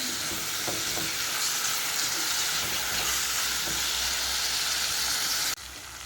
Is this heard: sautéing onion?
yes